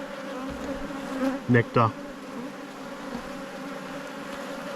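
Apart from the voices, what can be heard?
honey bees buzzing at the hive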